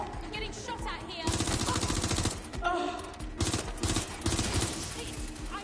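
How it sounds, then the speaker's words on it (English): Rapid bursts of gunfire during a Watch Dogs Legion firefight, loud and repeated in dense volleys with short gaps, over continuous game background noise. "I'm getting shot at here."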